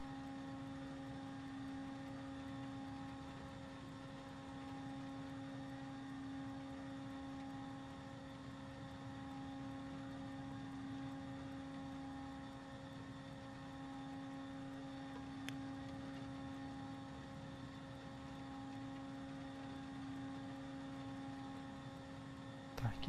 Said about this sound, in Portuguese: Estão ouvindo subindo a turbina?